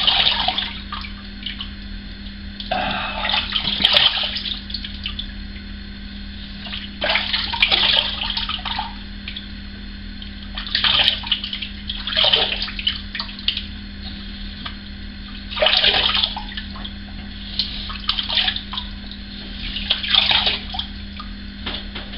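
A bathroom tap runs in short bursts while someone rinses after a shave, with splashing at intervals of a few seconds over a constant low hum, close and moderately loud.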